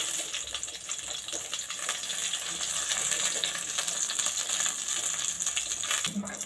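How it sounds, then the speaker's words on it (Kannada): Green chillies frying in hot oil in a pan for a Kannada drumstick-leaf sambar, a steady, dense sizzle and crackle that holds constant and fairly loud the whole time, with no talk. "ಇವಾಗ ಖಾರ ಆಡಿಸ್ಕೊಳ್ಳಿಕ್ಕೆಲ್ಲ ಮೆಣಸಿನ್ಕಾಯೆಲ್ಲ ಹುರ್ಕೊಳ್ಳೋಣ"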